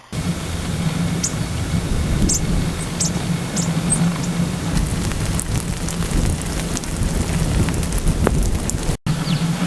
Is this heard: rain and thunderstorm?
yes